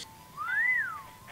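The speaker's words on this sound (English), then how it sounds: "I've never seen an anime character whistle before." An anime character whistles a single clear tone that glides up and back down, heard alone against a quiet background.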